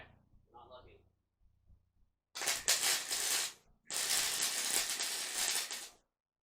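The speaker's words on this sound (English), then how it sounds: "I'm getting ready to weld." A young learner welds metal, two sustained loud crackling hiss bursts of a few seconds each, separated by a short pause and preceded by brief quiet talk and a handling clatter.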